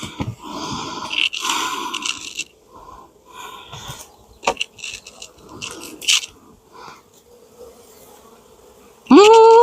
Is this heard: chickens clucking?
no